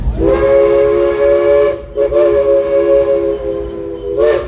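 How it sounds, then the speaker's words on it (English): The steam locomotive of the Frisco Silver Dollar Line sounds two loud, sustained whistle toots, close and breathy with hissing steam, separated by a brief gap. "give us a couple more toots on that whistle"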